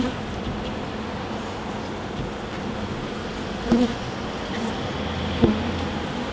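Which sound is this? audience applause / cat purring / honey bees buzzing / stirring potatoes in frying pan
honey bees buzzing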